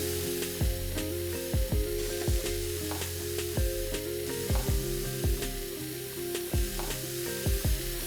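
Finely chopped paneer and onions frying in a hot pan, a steady close sizzle broken by repeated clacking stirs of a spatula against the pan, with no talk.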